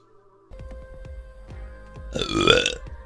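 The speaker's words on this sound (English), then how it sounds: "Good burp." A loud, drawn-out human burp near the microphone, preceded by a low rhythmic thumping background, the belch rising sharply and fading after about half a second.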